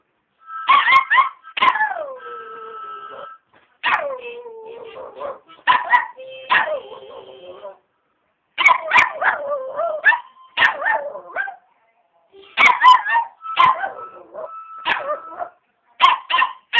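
A small dog howls and yips along in a series of rising and falling drawn-out wails, close and loud, broken by short pauses and quick barks.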